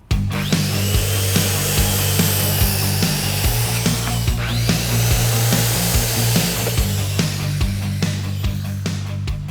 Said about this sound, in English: most skill saws or circular saws like this won't cut a 4x4 post in one pass